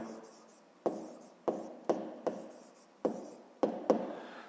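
A pen writes a maths inequality by hand on paper, seven or so crisp taps and scratchy strokes in an irregular rhythm, close and fairly quiet.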